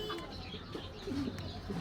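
Fancy feather-footed pigeons coo quietly in low, throaty murmurs, a few short calls rising over a soft background hum.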